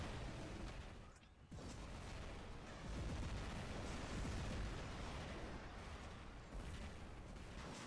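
An Orkan missile launcher fires in the War Robots video game, heard as dense, sustained rumbling blasts and booms that fill the whole stretch, with a brief dip early on.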